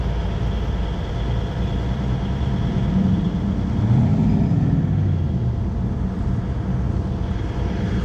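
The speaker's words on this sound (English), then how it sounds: "There's two engines in that Ranchero right there." A twin-engine Ranchero pulling out of a car show, a loud, steady low rumble throughout that swells slightly near the middle as it passes close by.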